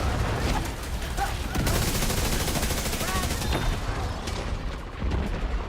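Rapid bursts of gunfire from a gun in The Division 2 crack out loud and near, with dense overlapping shots and a voice talking faintly beneath.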